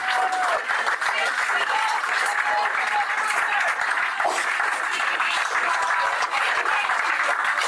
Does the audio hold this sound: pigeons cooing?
no